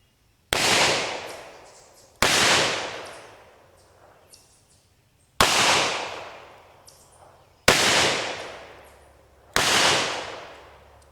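Five sharp, loud .38 caliber gunshots from X-Treme copper plated bullets ring out at irregular intervals of about two seconds, each followed by a short echoing decay.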